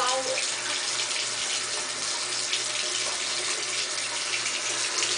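Water runs steadily from a tap as hands are rinsed at a sink, a continuous close splashing hiss with no breaks.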